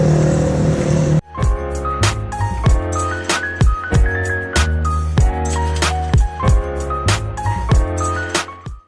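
A car going around, recorded on an Honor 600 phone's mic, with a loud, close engine whose pitch keeps rising and falling as it revs, plus sharp bursts throughout and no pause.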